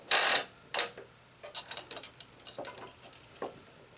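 Gamma X-2 stringing machine tensioning a racquet string, a quick run of dry ratcheting clicks and scrapes, loudest at the start and then trailing off into lighter taps, close up with no talk.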